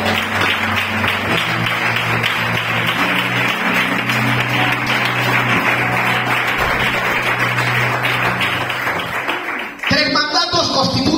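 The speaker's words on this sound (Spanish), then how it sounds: "Bríndale a Dios ese aplauso, por favor." Loud applause from a church congregation during a service, a crowd clapping steadily over sustained tones from instruments playing underneath, before cutting off abruptly near the end.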